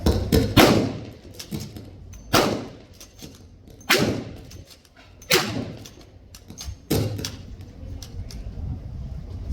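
An SMLE bolt-action rifle is worked again and again at a 1940s re-enactment weekend, giving a string of sharp, close mechanical clacks and thuds at uneven intervals, with quiet gaps between.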